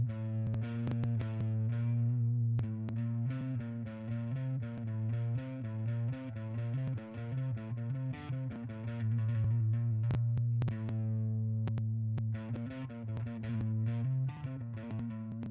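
A distorted electric guitar plays a continuous phrase built around the dark flat-two half step, steady and loud throughout with a chorus-and-echo sheen, no talking.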